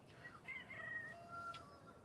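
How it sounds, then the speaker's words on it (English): A backyard rooster crows faintly in the distance, a thin drawn-out call over a low, steady outdoor background, with no one speaking. "Did you hear my rooster?"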